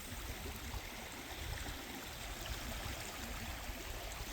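A flooded creek swollen into a river rushes along in a steady, dense roar of moving water, close and unbroken, with no voices over it.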